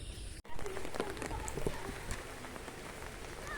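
Rain falls outdoors as a steady, soft hiss. It starts after a brief gap and continues evenly, with faint voices in the background.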